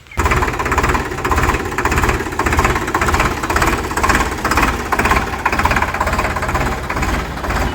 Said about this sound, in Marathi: आता आम्ही ट्रॅक्टर घेऊन चाललो आहे